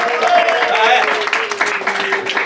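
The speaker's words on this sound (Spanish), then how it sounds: "Eso, otro aplauso." Applause from a church Bible study gathering in a park, a dense steady patter of hands that holds at a fairly even level throughout, with a voice speaking faintly beneath it.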